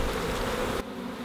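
Honey bees buzz around a freshly installed package hive on a farm, a dense steady drone that holds close and loud, then drops abruptly quieter near the end.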